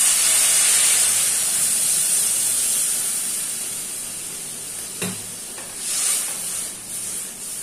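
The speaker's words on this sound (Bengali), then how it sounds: "ভাজা হয়ে গিয়েছে, এবার এতে 1 কাপ মতন জল দিয়ে দেবো।" A cup of water poured into a hot pan of fried fish and potol (pointed gourd) for a curry gives a loud burst of steamy hiss that slowly fades, with a few brief utensil clatters near the end.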